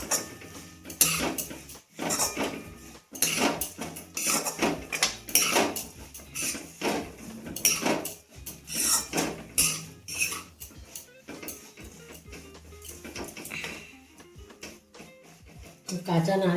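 Grated coconut is lightly dry-fried in a pan. A spatula clatters and scrapes in an irregular rhythm, close by, while someone talks over it.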